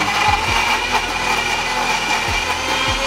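A kitchen mixer grinder runs loud and steady close by, grinding chicken gravy masala, its motor whirring continuously with a coarse, grinding rattle throughout.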